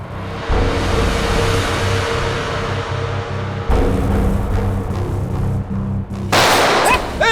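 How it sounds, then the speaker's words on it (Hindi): Sustained gunfire in a shootout, dense bursts of rapid shots running almost continuously at close range with a brief pause and sharp cracks near the end. "विक्रांत, कवर फायर दो जल्दी।"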